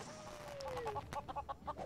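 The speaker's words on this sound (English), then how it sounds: "Lots of chickens." Chickens in the Lego Worlds video game give rapid, repeated clucks in quick bursts, near and moderately loud, following a brief rising-then-falling squawk.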